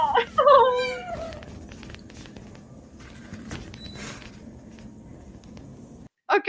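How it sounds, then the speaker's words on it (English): A cat meows in several clear rising and falling cries at the start, followed by quieter background rustle and a brief sound at the end; a voice talks over part of it. "I want to hear the meows."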